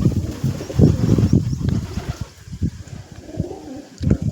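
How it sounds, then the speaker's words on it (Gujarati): Pigeons coo repeatedly in low, throaty bursts at close range beside a rooftop pigeon house, with a few chirps and brief wing flutters mixed in and no talking. "કબૂતરો મસ્ત છે"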